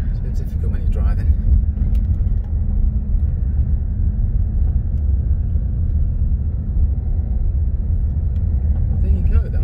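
Steady low engine rumble and road noise from a car driving through Cotswold villages such as Chipping Campden, continuous and fairly loud throughout.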